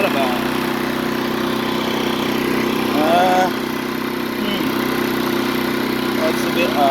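A Champion 2500 dual fuel generator engine runs at a steady, even drone close by, with brief faint noises over the constant hum.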